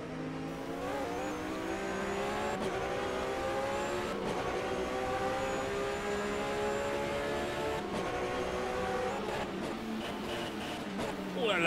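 A Porsche GT race car at speed on the Pau-Arnos circuit during a Coupe de France race, with a steady, loud engine drone and shifting pitch throughout. A commentator's voice can be heard faintly over the engine.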